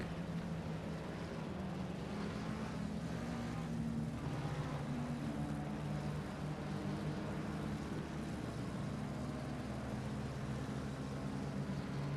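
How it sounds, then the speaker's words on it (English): Race car engines warm up in the distance at the Spa-Francorchamps circuit, a faint, continuous mechanical drone with slow swells and no clear individual passes. "there are car noises in the background. Do not be alarmed. They're just warming up."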